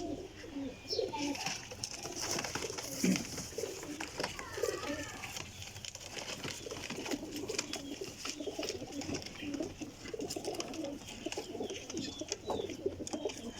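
Golden pigeons coo softly and repeatedly, low throaty calls over a quiet background with faint murmuring voices.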